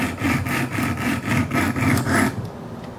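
A Kershaw Skyline knife blade is stroked across a coarse 50 grit Wicked Edge stone in a steady rhythm of about seven rasping passes, close and loud, before the strokes stop.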